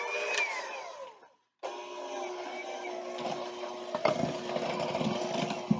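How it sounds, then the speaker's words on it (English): An electric mixer whirs through pie ingredients in a kitchen with a steady buzzing drone. It cuts out briefly, then restarts and runs continuously with small clatters. "Now I'm going to use my mixer."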